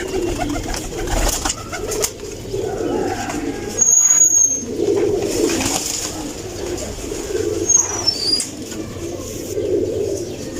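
Ferozpuri cross female pigeons coo steadily and close by, with a soft flutter of wings and a few short chirps over a busy loft hum throughout.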